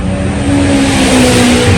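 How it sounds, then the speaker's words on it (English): Race cars roar past on the live track at Castle Combe circuit during a Halloween action day, a loud, steady engine drone close by with no talk over it. "It's going to be quite loud because there's literally the live track behind us"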